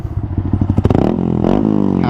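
A Yamaha R15 V3 motorcycle with a Ronin Hanzo exhaust in racing mode blips and revs sharply, a rapid throaty burble climbing into a rising roar, close by.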